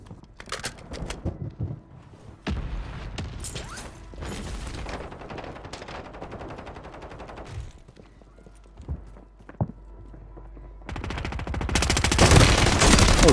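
Rapid gunfire from The Last of Us-style combat in Call of Duty Modern Warfare 3 Resurgence, with bursts of submachine gun fire, clatter and mechanical clicks, followed by a loud sustained burst near the end.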